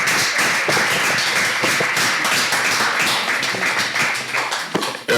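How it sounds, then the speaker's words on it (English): An audience at a Nigerian youth school debate competition applauds both schools with a loud, dense, sustained round of clapping that fills the whole stretch without a break. "A round of applause for both schools."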